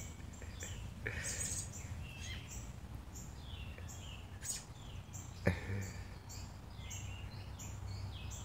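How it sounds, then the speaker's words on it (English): A pet robin gives soft, intermittent chirps and short calls close by, with a few light taps in a quiet room. "got a pet bird for now"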